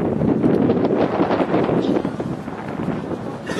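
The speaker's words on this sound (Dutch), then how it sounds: "Jullie hebben wind tegen." Strong wind buffets the microphone outdoors at a youth football match, a loud continuous roar with gusty rumbling that eases slightly toward the end.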